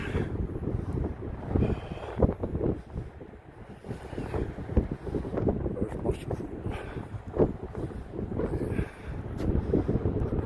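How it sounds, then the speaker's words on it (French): Strong wind buffeting the microphone on an outdoor walk near Waterloo, a loud continuous roaring rumble with gusts throughout, while someone speaks French over it. "il y a un vent ici, incroyable"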